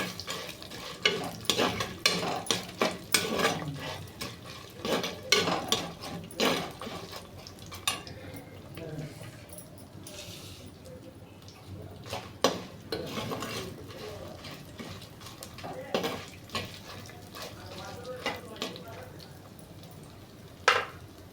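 Five dried red chillies with cumin seeds fry and get stirred in a pan for a carrot pickle, with repeated scraping and clinking of a spatula against the pan over a low sizzle, in bursts with quieter stretches between.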